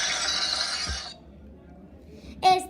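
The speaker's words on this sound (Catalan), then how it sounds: "se m'ha caigut el pot de pintura!" A pot of paint falls and breaks with a single crash and clatter, a bright smashing burst near the end after a sustained noise and a brief thud, loud and close with speech nearby.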